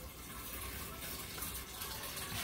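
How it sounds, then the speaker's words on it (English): Water runs into a pitcher in a home kitchen, a soft, steady gushing pour heard faintly and alone throughout. "I'm also going to start filling up the water"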